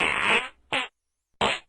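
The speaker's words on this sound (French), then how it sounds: "Voici les avantages qu'il y a à péter plus souvent." Three close, loud farts: a long rasping one first, then two short bursts after a pause, with no talking.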